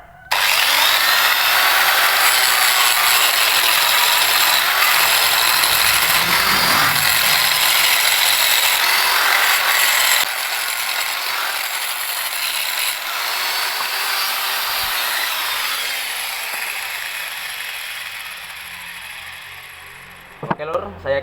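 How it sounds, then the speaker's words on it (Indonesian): Angle grinder grinding rust off a steel axe blade, a loud continuous harsh whine for about ten seconds that then drops to a slightly quieter steady grind and winds down near the end. "kita akan juga gerinda ini bagian berkaratnya lor ya, supaya tidak semakin merusak tekstur dari bilah kapaknya ini"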